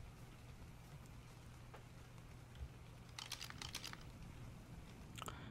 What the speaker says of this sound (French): la pluie s'arrête, génial